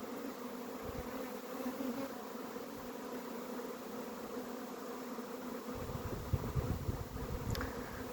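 Honey bees buzzing during the taking of a swarm, a dense, even drone that carries throughout, with a heavier low rumble swelling near the end, fairly close and without voices.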